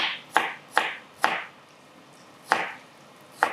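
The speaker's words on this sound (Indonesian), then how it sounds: "ini bawang merahnya aku mau iris dulu" A knife slicing shallots on a cutting board, five crisp chopping taps spaced unevenly, close and clear with no talk.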